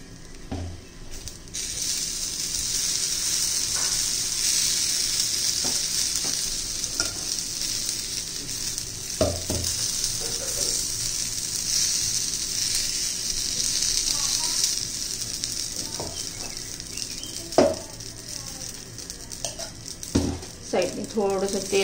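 Stuffed idli batter over a potato bhaji filling sizzles steadily in a pan, a continuous close frying hiss with occasional scrapes and knocks of a utensil.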